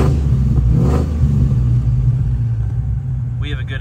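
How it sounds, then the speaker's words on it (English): A Ford car's exhaust rumbles and revs close by, a deep, loud, continuous engine drone that holds steady and eases slightly toward the end. "We have a good sounding exhaust"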